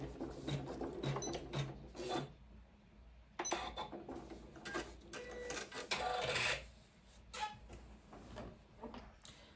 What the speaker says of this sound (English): The next step is going to sew all the way around your bag here and here, securing it to the stabilizer.